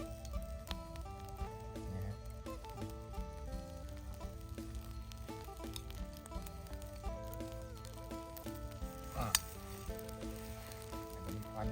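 Khao jee sticky rice grills with egg dripping onto the heat, giving a steady close sizzle and crackle with scattered pops throughout, no talking.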